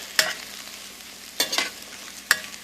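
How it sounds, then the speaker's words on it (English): Chopped bacon frying on low heat in a pan with sweet potatoes, a soft steady sizzle broken by three sharp stirring scrapes, close, with no talking. "I've just put in the chopped up bacon. We're going to let it go a little while longer on low heat."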